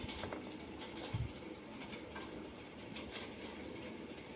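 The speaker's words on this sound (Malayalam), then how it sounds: "നമ്മുടെ ട്രെയിൻ വന്നിരിക്കുന്നു." A train pulls into a railway station on the Kottayam line with a faint rumble and soft clickety-clack from the wheels, broken by a brief low thump partway through, and nobody speaks.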